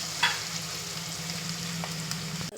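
Shallots and curry leaves fry in a pan for a Kerala-style home lunch, giving a steady close sizzle with a brief crackle near the start and no talk.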